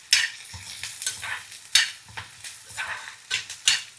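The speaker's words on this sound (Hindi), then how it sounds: "प्याज का लगाते हो तड़का इसको?" Onion tadka sizzling in a hot pan in a hill home kitchen, stirred with a spoon in repeated scraping strokes over steady frying hiss, close and moderately loud, with no talking.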